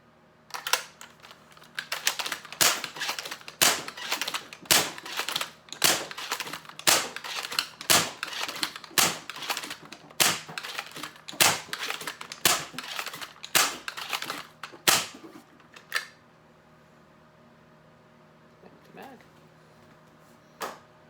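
A SLAB blaster fires in a rapid series of sharp, loud snapping shots, about twenty in quick rhythm over roughly fifteen seconds, then falls quiet apart from a couple of faint clicks.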